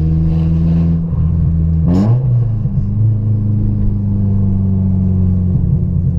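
A sports car engine with a holed exhaust revs hard, rising in one sharp sweep before settling into a loud, rough, droning idle.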